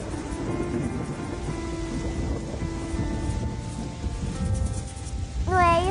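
Steady rain and low rumbling thunder from the great flood in an animated Noah's Ark story play continuously, with a narrator speaking over them and a rising whistling effect near the end.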